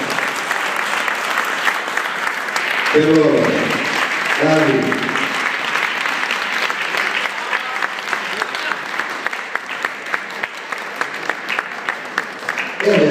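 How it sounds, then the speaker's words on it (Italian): Sustained applause from a tango audience for a dancing couple, dense and even for the whole stretch, with a compère speaking briefly over the clapping early on. "un grande applauso"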